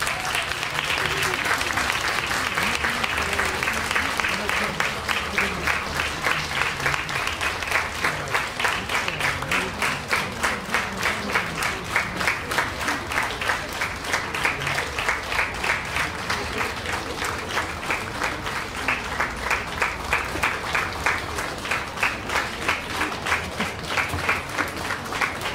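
An outdoor audience in a city square applauds as a big band is introduced, sustained clapping that settles into a long rhythmic unison beat with scattered voices.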